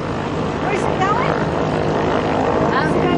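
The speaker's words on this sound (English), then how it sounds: "Watching an airplane taking off." An airplane takes off at the Athens Airshow, its engine drone a loud, steady roar throughout, while people chat nearby over the noise.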